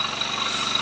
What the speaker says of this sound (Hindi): इस बाइक का हमने इंजन बनाया और अब आप इसका साउंड भी देख सकते हैं